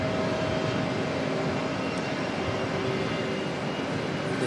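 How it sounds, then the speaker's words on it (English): Steady broad roar of a Jetstar airliner arriving at Auckland Airport after a flight from Queenstown, a continuous engine rumble with a faint whine running evenly throughout at moderate distance, no voices. "Then looks like another Jetstar aircraft come back from Queenstown."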